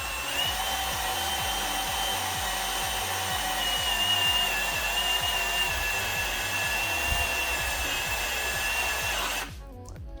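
Power drill boring a hole through a pipe while building a hands-free sanitizer dispenser, a steady close whine with rhythmic chugging pulses that stops abruptly near the end, with no voices.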